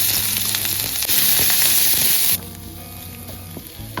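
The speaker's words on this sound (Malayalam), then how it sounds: "എണ്ണ ആവശ്യത്തിന് വയ്ക്കുക. എന്നിട്ട് നേരത്തെ അരിഞ്ഞ് വെച്ചിരുന്ന ഉള്ളി ഇടുക." Chopped onion drops into hot oil in a pan for kadala curry, setting off a loud, bright sizzle that surges at once and then settles to a quieter, steady frying hiss.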